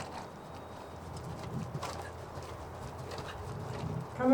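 Horse cantering in an arena during a riding lesson, soft rhythmic hoofbeats on footing with low rumbling thuds, steady and moderately close, with faint background ambience and no talk.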